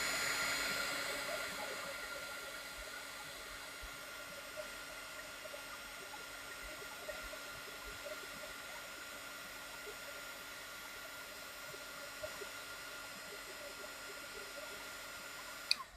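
A hair dryer blows steadily on a watercolor painting, a constant close whooshing drone that eases slightly after the first couple of seconds and then holds level, with no voices.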